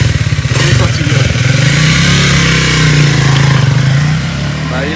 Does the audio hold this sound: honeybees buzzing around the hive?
no